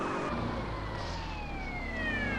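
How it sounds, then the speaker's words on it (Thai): A police car siren in the mobile version of the GTA San Andreas video game wails with steady rising and falling tones over a low engine hum, moderately loud and continuous, with no voices. "รถตำรวจมาวะ"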